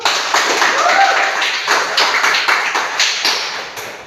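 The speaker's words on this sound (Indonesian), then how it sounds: "kita tepuk tangan dulu" Students in a classroom clap their hands together in a fairly rhythmic, close and moderately loud patter that continues for several seconds, with a faint voice briefly under it.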